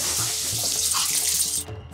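Kitchen tap running in a Hindi TV drama, a steady rush of water pouring into a sink for under two seconds before it stops suddenly, with no talk.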